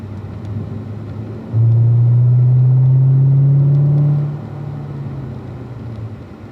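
A race car exits a corner and the driver squeezes back onto the throttle, the loud close engine note swelling into a strong steady drone for a few seconds before easing off again.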